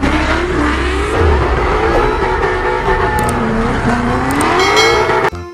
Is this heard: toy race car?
yes